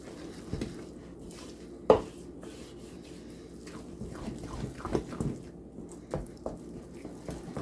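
Fudge mixture with powdered sugar stirred in a bowl, irregular scrapes and clinks of a utensil against the dish with one sharper knock, close and moderately loud, no talking.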